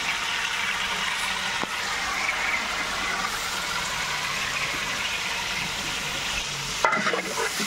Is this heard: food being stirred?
yes